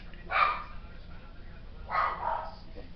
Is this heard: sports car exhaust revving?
no